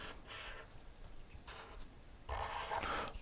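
A pen draws an electronic schematic by hand, making close, scratchy strokes in several separate bursts, with a longer, louder scribble at the end.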